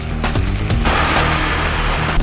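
An SUV with a locked center differential climbs a steep muddy slope off-road, its engine droning loud and steady with rising strain and some knocking and clunking from the drivetrain.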